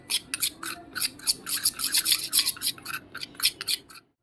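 Frankie masala being stirred together in a bowl: chaat masala, black salt, garam masala, ground pepper and salt. A spoon scrapes and rubs against the bowl in quick, uneven strokes, close and moderately loud, with no voices.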